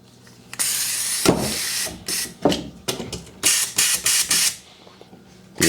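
Porter Cable FN250C 16-gauge finish nailer with a jam, failing to fire and only hissing: repeated loud bursts of air hiss, each about half a second, close and harsh, with short mechanical clicks between.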